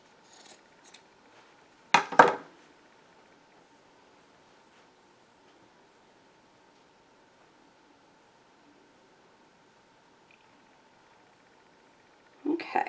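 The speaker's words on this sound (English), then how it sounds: "I again have some excess fabric. I'm just going to cut it off." Scissors snip off excess fabric from a DIY fall pumpkin wreath in two short, crisp cutting bursts, one early and one at the end, separated by long near-silence.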